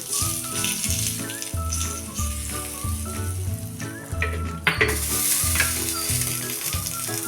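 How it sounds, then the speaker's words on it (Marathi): A hot asafoetida and mustard seed tempering poured over ridge gourd peel chutney: a sharp, close sizzle bursts out midway and keeps crackling loudly, with steady background music throughout. "आता ही गरमागरम हिंग मोहरीची फोडणी"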